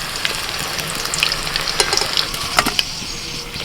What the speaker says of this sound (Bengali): আলুগুলো একটু ভেজে নিতে হবে